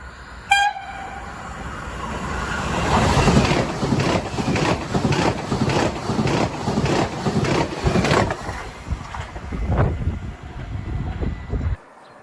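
At Tychy Żwaków station, a train horn blasts briefly, then the Pilecki passenger train to Białystok rumbles past with rhythmic clacking of wheels over rail joints before the noise cuts off.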